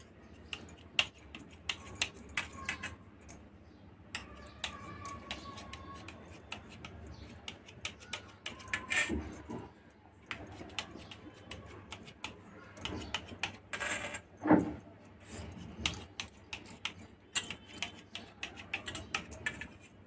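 A knife cutting a set slab of rice halwa into pieces makes faint, scattered clicks and taps against the tray, irregular and quiet against a low hum, with no talk.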